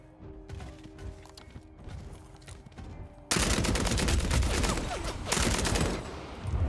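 Gun firing in Vampire: The Masquerade – Bloodhunt: a sudden dense stream of rapid loud shots cutting in midway after quieter footsteps and game ambience.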